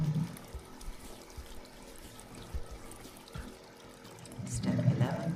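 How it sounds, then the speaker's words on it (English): A tap runs while hands are rinsed under it at a sink: soft pouring and trickling water, fairly faint and steady, growing louder with splashing near the end. "Rinse hands."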